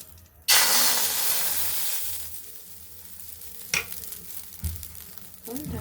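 Rice batter for chitoi pitha poured into an oiled wok, bursting into a loud steady sizzle that slowly fades, followed by a few clanks and scrapes.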